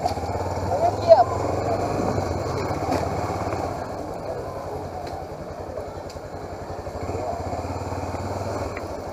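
A carbureted Honda Hornet motorcycle engine runs at a steady idle with a rough, throbbing note, fairly close, while people talk over it.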